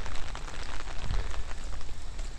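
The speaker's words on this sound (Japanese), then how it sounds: "すごい雨で今日ね。 こんな雨ですわ。" Heavy rain falling steadily outside a rest stop by temple ruins, a dense continuous hiss of drops pattering on surfaces, close and loud with no voices.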